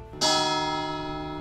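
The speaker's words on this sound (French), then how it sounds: "Comme une cloche qui retentit." A single bell strikes once, ringing out clearly and loudly with a long, bright, sustained tone that slowly fades.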